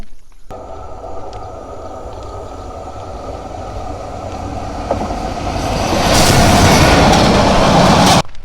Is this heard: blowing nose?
no